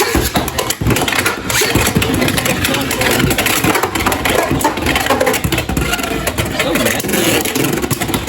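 Beyblade X tops spin and scrape against each other in a stadium battle, a dense, continuous grinding whir with harsh clattering bursts, loud and close throughout.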